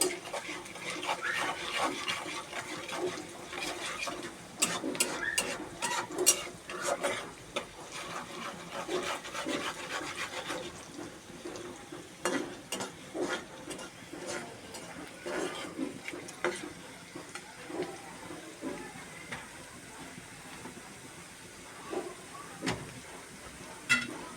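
Onions and salt frying in a pan are stirred with a utensil, giving repeated scraping and rubbing strokes in uneven bursts over a soft sizzle, close and fairly quiet, with no talk.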